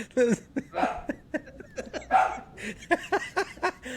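A dog gives several short, yelping barks and whimpery vocal bursts close by during a casual podcast-style conversation, with people laughing and talking around it.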